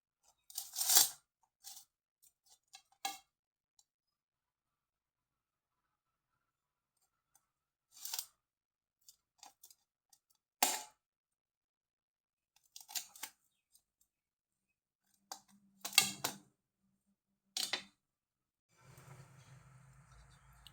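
A baked blondie, crunchy at the edges and soft in the middle, being cut: short isolated crunchy cutting strokes scattered with long quiet pauses, close and fairly faint, ending with a brief rustling noise.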